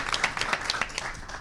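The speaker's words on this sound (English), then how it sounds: "big hand of applause for, yeah, round of applause" Applause for sponsors at a conference event, as a short, faint burst of scattered clapping from a seated audience with little talk over it.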